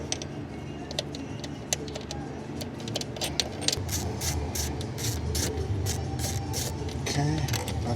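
Steady clicking and ratcheting while four 10mm throttle body bolts are loosened on a 2007 Lincoln Mark LT, close metallic ticks repeating over a constant low background hum.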